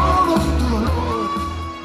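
Fans crowded in to meet a band at an autograph signing, screaming and cheering together as one loud, continuous roar of close voices with no break.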